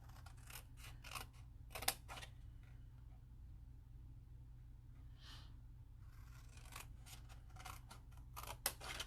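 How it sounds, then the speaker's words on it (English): Scissors cut paper along a score line in quiet, close snips, clustered near the start and again at the end with a calm pause between. "all we need to do is cut up on the score line up to the first score line"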